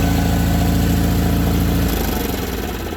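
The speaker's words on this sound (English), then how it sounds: "let the tractor idle before you shut it off" An Ingersoll 4120 garden tractor engine idles with a steady, loud, close low rumble, shifting to a slightly rougher, lower throb about two-thirds through with no voices.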